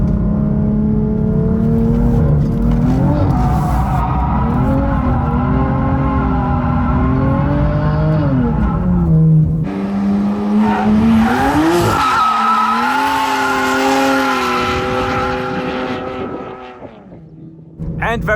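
A car drifting sideways in second gear, engine revving hard and rising and falling in pitch as the tires squeal loudly and continuously. The noise is close and sustained, then eases off near the end.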